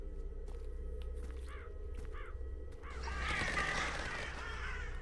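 Crows cawing in the video game A Lakeside Walk in the Dolomites, several harsh calls standing out over a low steady hum, followed by a louder rustling, trampling stretch.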